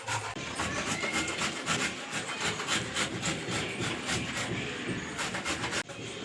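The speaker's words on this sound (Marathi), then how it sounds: "अहो, का गाजर किसून द्या ना तेवढे।" Carrots scraped over a new hand grater at home, a steady close rasping and rubbing that runs on without a break, with nobody talking.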